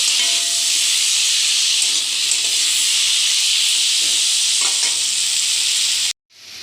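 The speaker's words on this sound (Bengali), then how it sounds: "দেখুন জল দিয়ে দিলাম, আর ফুটে উঠুক, সিদ্ধ হোক আলুটা" Water hits a pan of frying potatoes and erupts into a loud, sustained hissing sizzle of steam that suddenly cuts out near the end.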